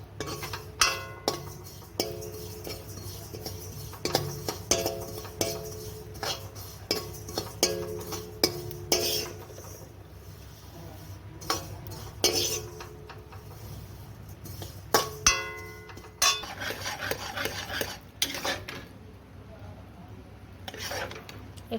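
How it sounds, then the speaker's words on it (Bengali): A utensil stirs sesame seeds in a hot wok for til laddu, making repeated scraping and clinking strokes against the metal, close by and steady across the whole stretch. "এখনও আঠা আঠা হয়নি, অনেকক্ষণ ধরে আমাকে এটাকে নাড়াচাড়া করতে হবে।"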